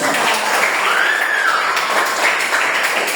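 A classroom of students in Indonesia claps together in a steady, dense wash of applause that holds evenly for about three seconds, close and fairly loud, with no voices rising above it.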